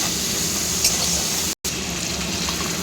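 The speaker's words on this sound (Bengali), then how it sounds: "স্বাদ মতো নুন দিয়ে এবারে বেশ কিছুক্ষণ ভেজে নিতে হবে" Drumstick flowers frying in a pan with turmeric and salt give off a steady, close hiss and sizzle with faint stirring scrapes. The sound breaks off for an instant partway through.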